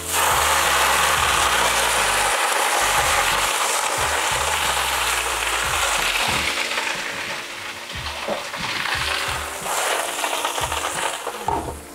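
Torzelle greens hit a hot pot beside an anchovy base in a restaurant kitchen in Vietri sul Mare, a loud continuous sizzle and hiss with rough stirring clatter underneath, no voices.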